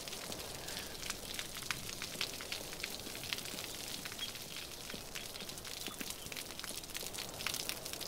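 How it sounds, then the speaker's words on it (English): Steady rain falls in a video game, a soft, even patter of countless drops with scattered sharper ticks, fairly quiet and unchanging throughout. "the rain does sound real"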